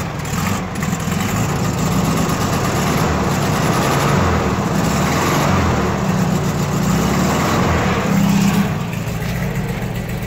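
A cold 1970 VW Type II bus engine idles steadily in neutral on a Michigan day, a continuous low rumble with a dense, even mechanical drone, close and unbroken throughout.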